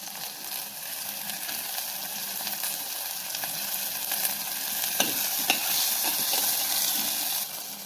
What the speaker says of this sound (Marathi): आता फोडणीतच आपण वाटाणेही शिजवून घेऊया.